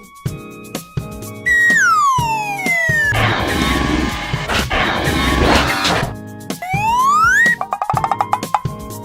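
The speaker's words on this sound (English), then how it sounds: "Fire truck." A toy-style fire truck siren wails close and loud, sweeping up and down with a dense burst in the middle and short beeping and clicking sounds around it.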